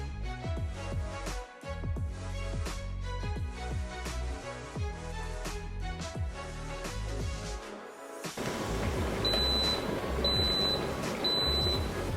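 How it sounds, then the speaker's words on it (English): A Razorri 1.7-litre digital electric kettle finishes boiling with a rumbling roar, then switches off and gives three short, bright electronic beeps at even intervals. "the product stops by itself and actually makes a beeping noise to let you guys know when it's done"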